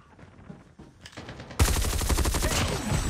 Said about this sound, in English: I'm gonna have to go with my mini SMG here.